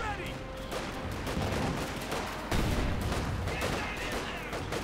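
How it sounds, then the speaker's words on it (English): Dense gunfire and battle explosions from the WWII strategy game Company of Heroes 2, with a grenade blast among repeated sharp bursts and a heavier hit near the middle, loud and continuous. "There you go, another grenade."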